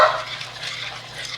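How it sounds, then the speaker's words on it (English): Chocolate cake batter thinned with boiling water is stirred in a bowl, a soft continuous swishing and scraping close by with no talk. "Now you're going to mix until that is totally combined."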